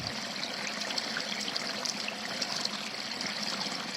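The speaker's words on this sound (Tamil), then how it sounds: "தூரத்தில் ஏதோ அருவியின் சத்தம் கேட்பது போல் இருக்கின்றதே." Rushing waterfall effect during a school stage play, a faint, steady wash of flowing water running without pause and with no talk over it.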